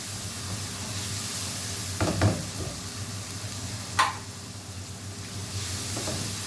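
Masala with dry coriander and cumin fries in hot oil, a steady sizzling hiss with a couple of brief scraping stirs of a spoon in the pan.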